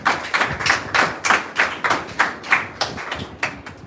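A church congregation claps in unison to welcome Brother Joshua, about a dozen loud, evenly spaced claps in a steady rhythm, close and without talk.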